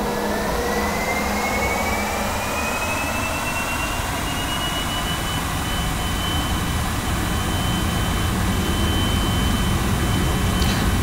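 Learjet jet engines, a Lionheart Creations model in Flight Simulator X, spool up to takeoff power. A steady, dense roar runs throughout while a turbine whine climbs in pitch and then holds.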